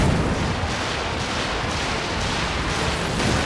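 Tank guns and heavy weapons firing in Company of Heroes 2 during a large armored battle, a dense, continuous roar of booming fire and rumble with no clear gaps, loud and close throughout.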